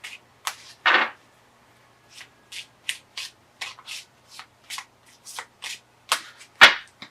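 Tarot cards being shuffled by hand, a steady run of quick papery riffles and brushing slides, close and fairly loud, with one sharp slap of cards near the end and no talking.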